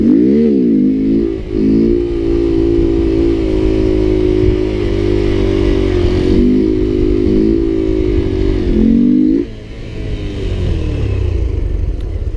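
Honda Grom stunt motorcycle held in a slow wheelie while the rear brake is dragged, its engine buzzing loud and close at steady revs with small rises and dips, then dropping off as the front comes down.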